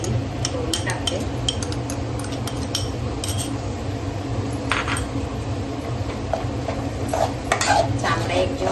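Ground coconut, onion and bay leaf paste is stirred into a spicy Marathi mutton rassa curry, with continuous close scraping of a spoon against the pot, light metallic clinks and a soft sizzle underneath.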